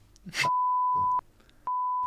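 Two sustained censor bleeps, a long tone then a shorter one, cover a spoken name in a conversation about football, with brief bursts of speech around them.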